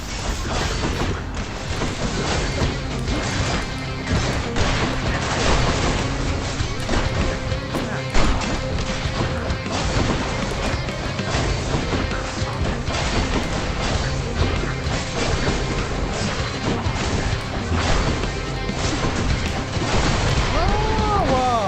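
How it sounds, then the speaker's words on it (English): Bomb strikes in the Hades video game, repeated thuds and crashes buried in a dense, continuous wash of game music and combat effects, steady and loud throughout. "Two bombs striking."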